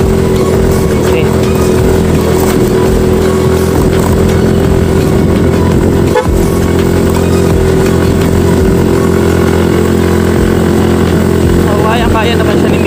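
A Yamaha Mio 125 scooter straining uphill on a holiday ride in Mindoro, its engine droning loud and continuous right up close under steady throttle, with wind noise and someone talking over it.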